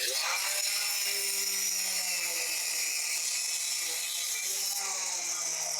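A power tool that kicks back whines loudly and continuously up close in a workshop, its motor holding a steady pitch with a low hum beneath.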